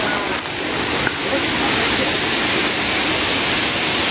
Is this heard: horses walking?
no